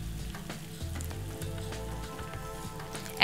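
Cubed tomato hisses and crackles as it cooks in a pan of oil-free mixed vegetables, a steady close sizzle with faint stirring scrapes and a brief louder clatter at the end.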